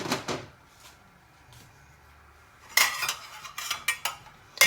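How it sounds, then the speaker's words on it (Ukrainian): A lid goes onto a pot of boiling potatoes and carrots in a home kitchen, with a couple of sharp metallic clanks at the start, then a quiet pause before a cluster of louder clattering pot-and-lid knocks near the end. "І хай вони варяться. Накриваємо кришкою."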